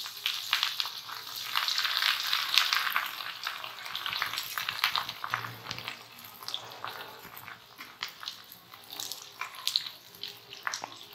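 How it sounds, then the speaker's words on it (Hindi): Bread slices fry to a light golden colour in hot oil, giving a steady, close sizzle with constant crackle throughout and no talk. "अब हम इनको फ्राई करेंगे,"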